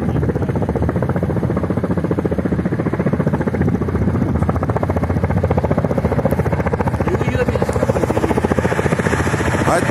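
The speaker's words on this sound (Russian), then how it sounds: "А вон еще вертушка летит." Helicopter passing overhead outdoors near a pontoon bridge, a steady loud rotor chop and engine drone that holds throughout with no talk.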